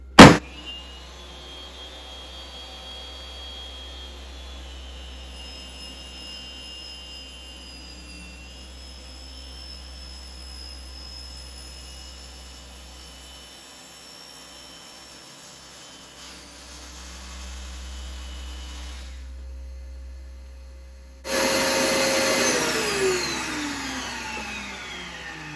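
A Dewalt circular saw whines at a steady high pitch for a long stretch, drops out briefly, then rises into a louder burst as the blade cuts up through a zero-clearance insert, trailing off as it spins down.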